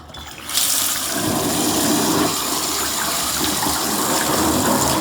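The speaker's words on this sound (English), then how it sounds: "Oh no, hot water." Hot water gushes loudly and steadily from a tap, a broad continuous rush that starts abruptly after a brief quiet moment and holds for several seconds, with no voices over it.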